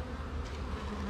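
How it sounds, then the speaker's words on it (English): Honey bees buzz inside a queen cell builder hive, a soft steady drone close by with no talking. "Aren't that many bees up here."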